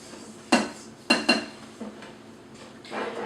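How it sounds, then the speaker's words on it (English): A spatula mixes chocolate truffle dough in a bowl, with three sharp knocks against the bowl in the first half, then a soft scraping swish, close and fairly quiet. "I just have to mix it a little bit with my spatula to make sure that everything is mixed together very well."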